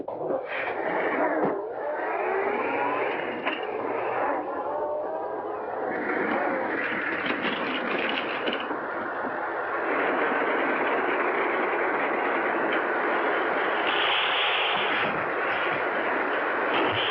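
An Earthworm tractor drives through a swamp, its engine giving a loud, continuous rumbling chug with rattling, clanking bursts that persists throughout on an old, band-limited film soundtrack.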